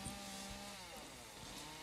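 A chainsaw carves a bear into a wood stump, its engine droning steadily and close with a continuous buzzing whine as the bar works the wood.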